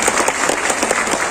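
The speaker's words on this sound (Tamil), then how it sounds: "கரகோஷம் எழுப்பி வரவேற்போம்" Audience applause welcoming a guest at a formal Tamil gathering, a dense, steady burst of many hands clapping throughout, loud and close.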